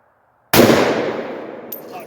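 A Palmetto AR rifle with a Kaw Valley 5.6 buffer weight fires a single loud shot of Freedom Munitions ammunition held off the shoulder outdoors, with a sharp onset and a long decaying echo afterward.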